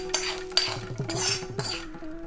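Peanut sundal being scooped and scraped out of a kadai with a metal spoon, giving a few clanking scrapes and taps at close range, with no talk.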